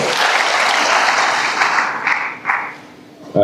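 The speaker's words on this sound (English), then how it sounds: "Please give a round of applause." Graduation ceremony audience applause, loud, dense clapping from a crowd that thins and fades toward the end before a voice starts speaking.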